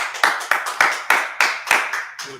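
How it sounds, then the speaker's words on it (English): A small group claps for a brother at a religious gathering, a short burst of about eight sharp, evenly spaced claps, loud and close with no talk. "Clap it up for his brother"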